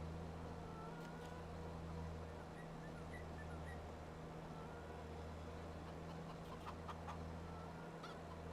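Chickens cluck faintly in a few scattered bursts on a farm, nearly buried under the steady loud drone of a nearby riding mower engine.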